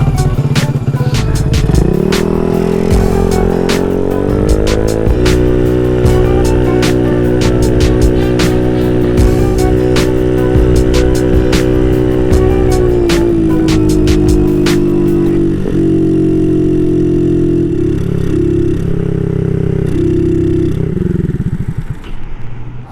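Honda Ruckus scooter engine droning loudly and close throughout a ride, steady buzzing tone with slight pitch shifts and rattling clatter, fading and sputtering near the end.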